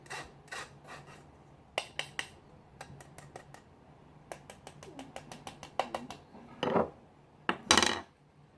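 A dry spice, baking soda and flour mixture for Jamaican ginger cake scraped through a sieve, a series of short, crisp rasping strokes and taps, quiet and close, with no talking.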